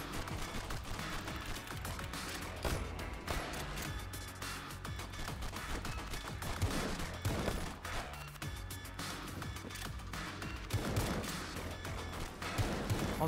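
Rapid bursts of gunfire and bullet sounds from the video game RedEX crackle continuously at close range, with dense overlapping shots and occasional heavier impacts throughout.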